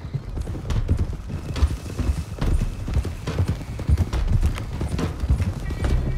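Several horses gallop together in the Red Dead Redemption 2 game world, a steady, dense clatter of hooves, close and continuous for several seconds, with a brief whinny among the beats.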